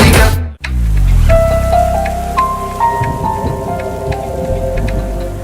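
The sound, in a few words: heavy downpour of rain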